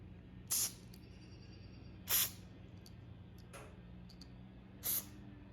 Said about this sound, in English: whenever we blow it, the carb spray in here, it'll clean out that screen